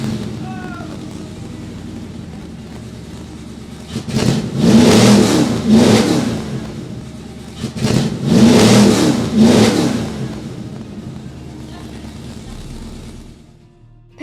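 A car engine turns over and catches, then revs hard twice in strong swells before settling back to a steady idle, with a voice talking in the background.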